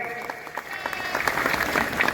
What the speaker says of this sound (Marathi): टाळ्या करा, टाळ्या सगळ्यांनी